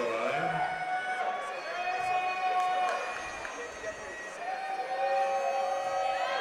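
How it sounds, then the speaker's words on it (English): A packed gym crowd at a girls' high school basketball game roars and whistles steadily as spectators on their feet try to rattle a free-throw shooter, with a commentator talking over the din. "Crowd on their feet, trying to rattle a shooter"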